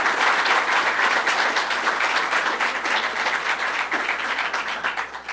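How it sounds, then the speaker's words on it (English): An audience at a governor's downtown revitalization announcement bursts into dense, sustained applause that fills the room, thinning slightly toward the end. "She really deserves the applause"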